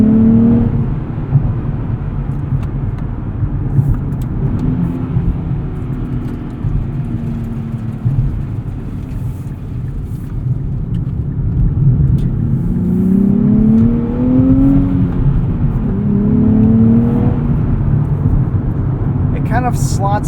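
A 2023 Nissan Z with a manual transmission drives with its engine droning steadily, rising and falling in pitch as it revs through the gears, continuous and fairly loud inside the cabin.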